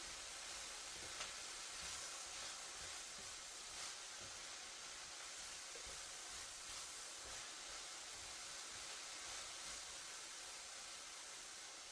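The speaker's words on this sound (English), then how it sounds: "I love hearing the sizzle." Steady broadband sizzling hiss of thin-cut broccoli and other vegetables stir-frying in a pan with broth, continuous and fairly quiet with faint crackles throughout.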